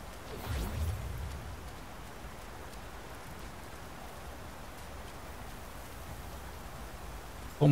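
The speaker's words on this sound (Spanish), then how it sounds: "Como una lluvia de arena aquí." Steady sand rain pours in Black Myth: Wukong, a continuous soft hiss like rainfall on a surface, with a brief swell near the start and a sharp louder sound at the very end.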